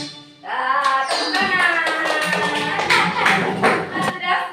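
Students in a classroom perform a rhythmic cheer clap, with sharp group claps in a patterned beat mixed with voices chanting along, close and lively.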